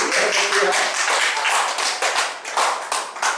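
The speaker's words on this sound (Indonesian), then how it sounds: "Beri tepuk tangan ini." A church congregation claps hands during a Sunday worship service, a dense, sustained patter of many hands filling the space, fairly loud and continuous with uneven bursts.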